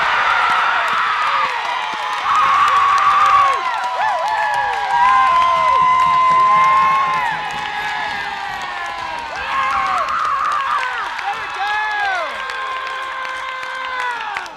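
A softball championship crowd roars and cheers for the Oskaloosa Bears after an in-the-park home run, loud sustained cheering and shouting with surges and applause across the whole stretch.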